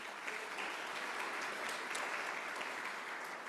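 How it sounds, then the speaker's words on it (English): Sellout crowd at a New Mexico governor candidate forum applauding itself, a steady dense clapping that fills the room without a break. "Give yourselves a round of applause as well."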